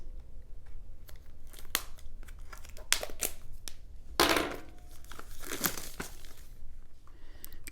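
Cardboard box and plastic packaging of a MoveSpeed YSP BS05 ultra slim MagSafe power bank being cut and torn open, with close crinkling, rustling and scissor snips in short bursts and a louder tearing rush midway.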